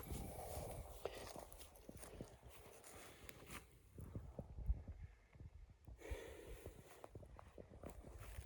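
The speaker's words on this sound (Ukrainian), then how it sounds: "Ось такий жеребець." A stallion's hooves clop on a hard surface in an uneven walking rhythm, close by, with a few snorts and shuffles and no talking.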